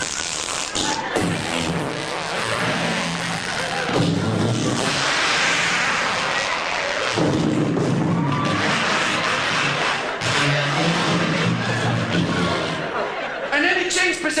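A voice mimics a drawn-out, strained, tortured fart noise, mixed with chatty speech and light chuckling from listeners.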